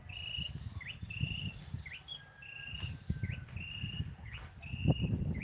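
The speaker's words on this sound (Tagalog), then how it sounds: "Yung huni ng ibon" A bird repeats a short, high whistled note with a quick upward flick, about five times at an even pace, over a low rumble of background noise.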